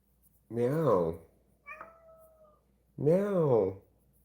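A voice imitates a cat's meow twice, two loud drawn-out wavering calls separated by a brief faint tone, close to the microphone.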